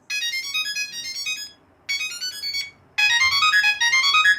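A Samsung Galaxy SmartTag rings out with a bright, repeating electronic melody in three loud bursts separated by short pauses, with no talking over it.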